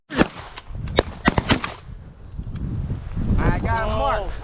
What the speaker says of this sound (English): Isaac, shoot it!